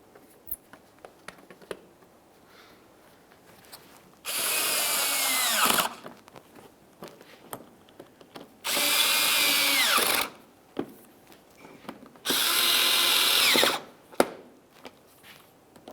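A power tool drives in the mounting bolts on a 2006-2012 Ford Fusion during a horn replacement, three loud, close bursts of whirring of about one to two seconds each, separated by quieter handling clicks and knocks.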